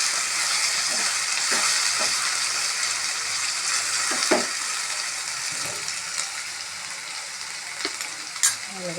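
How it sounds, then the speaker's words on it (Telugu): Potatoes frying in oil give a dense, steady hiss close by, with a few faint clinks and scrapes from stirring scattered through, no talking. "ఇట్లా ఆలుగడ్డని ఆయిల్లోనే ఫ్రై చేసుకోవాలి ఫ్రెండ్స్"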